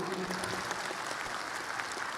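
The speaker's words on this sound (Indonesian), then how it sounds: "Tepuk tangan dulu." Audience clapping at a business training session, a dense, steady patter of many hands held at an even level for the whole stretch, with a faint voice underneath.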